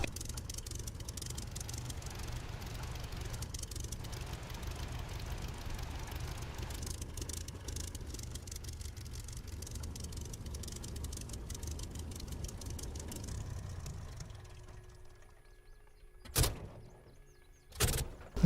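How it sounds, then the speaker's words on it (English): A warbird aircraft engine in the DCS flight game runs with a steady rumble and then winds down and falls quiet near the end, followed by a couple of brief clicks or knocks. "Okay, well I'll stop the engine"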